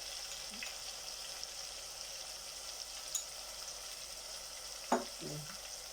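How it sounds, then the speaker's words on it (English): Turmeric and chili powder frying for a green banana curry, a steady faint sizzle with a couple of brief stirring scrapes near the end, no talking. "Just going to stir this a bit"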